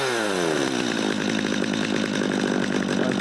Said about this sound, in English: I haven't run this saw in about a year, about 6 months, and it just fires right up